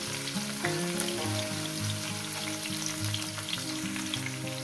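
Carrots and green chillies fry in a wok, giving a steady, close crackling sizzle with a constant hiss and no voices.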